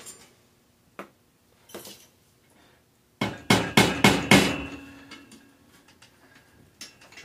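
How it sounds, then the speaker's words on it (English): Sharp metallic hammer taps ring out close by, reshaping a metal housing on an 1980s Schwinn Prelude bicycle: a few scattered strikes, then a quick burst of five or six hits, then sparse taps again. "tap it with a hammer back into shape"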